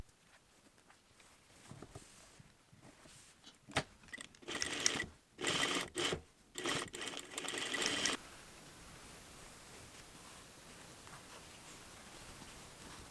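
A sewing machine stitches dress fabric cut from a bedsheet in a few short bursts of running, close by, then stops and leaves quiet room noise for the last several seconds.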